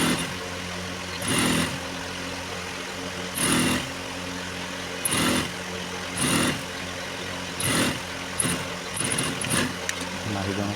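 A sewing machine stitches the outer side seam of palazzo trousers, running in repeated short bursts over a steady motor hum, with brief pauses between runs.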